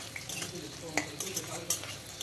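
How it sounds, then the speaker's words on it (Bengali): Marinated mutton sizzles in a pan while a spatula stirs it, steady frying hiss broken by several scraping clinks of utensil on metal, close up. "এইভাবে ভাজতেই থাকবো"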